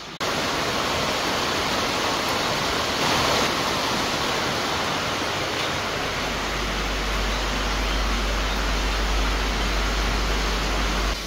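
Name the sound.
rain outside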